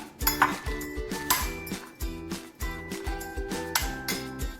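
Chopped chilli, coriander and spring onion stirred in a bowl with a utensil, giving a regular series of ringing clinks and scrapes of metal against the dish, about two strikes per second, close and clear.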